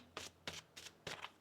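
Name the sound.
tarot cards being shuffled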